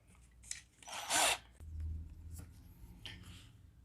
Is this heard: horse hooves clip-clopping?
no